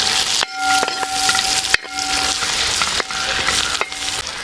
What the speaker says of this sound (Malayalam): ഇനി പച്ചമണം പോകുന്ന വരെ ഇളക്കാം.